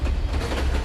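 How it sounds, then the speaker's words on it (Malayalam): A short burst of a train rolling over rails, a steady low rumble with a hint of clattering wheels, fairly loud and close with no voices, as in a Malayalam film sound effect. "കേൾക്കുന്നില്ലേ ട്രെയിനിന്റെ ശബ്ദം?"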